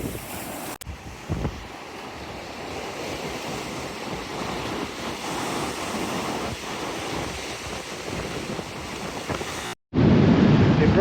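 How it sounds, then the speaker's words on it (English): Strong, steady wind buffets the microphone on a stony beach below dramatic sea cliffs on a peninsula, with surf rolling underneath; the roar holds loud and unbroken, cuts out briefly near the end, then returns even harsher. "Windy as heck."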